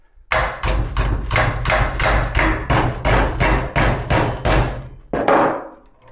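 A small mallet strikes metal clamped in a Vevor bench vise, about a dozen sharp, evenly spaced blows in quick succession, close and loud, ending with a brief pause and one final ringing hit.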